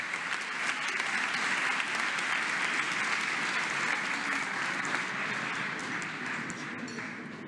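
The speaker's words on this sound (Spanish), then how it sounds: "Demos un fuerte aplauso a todos los ganadores." Sustained applause for the winners from a large audience at a ceremony honoring Pan American Games athletes, with thick, even clapping that stays strong throughout and tapers only slightly near the close.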